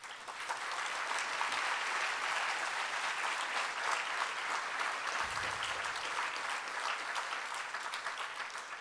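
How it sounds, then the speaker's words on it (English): Lecture hall audience applauding students being honored at a human rights memorial lecture, a broad, even patter of many hands that swells quickly and holds steady, slightly distant and without voices. "I would like to get applause for all of our students who are being honored."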